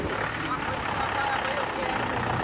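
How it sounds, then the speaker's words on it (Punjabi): A steady, rumbling Mahindra 575 tractor engine idles continuously at close range, a low mechanical drone with no breaks. "ਆਵਾਜ਼ ਦੇਖੋ ਟਰੈਕਟਰ ਦੀ ਪੂਰੀ ਸਕੀਨ ਆਵਾਜ਼ ਹੈ"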